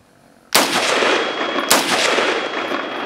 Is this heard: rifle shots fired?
yes